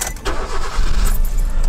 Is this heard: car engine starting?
yes